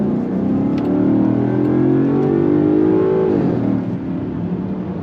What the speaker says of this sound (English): Got a little bit of pop and bang coming out of the exhaust.